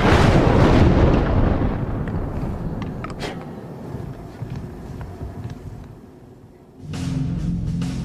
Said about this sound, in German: Zuletzt wird die brennende Lunte in die Zündvorrichtung eingespannt und die Ladung